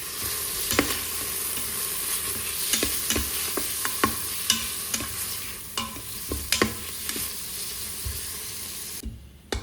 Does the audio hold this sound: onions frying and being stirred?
yes